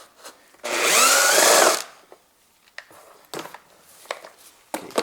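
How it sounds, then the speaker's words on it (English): An electric screwdriver whirs steadily for about a second while backing out bolts on a Tesla Model 3 door panel, followed by scattered light clicks and handling knocks nearby. "I use my electric driver."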